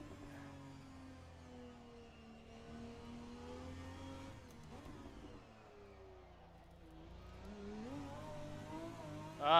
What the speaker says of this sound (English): Ah, spun up the wheels.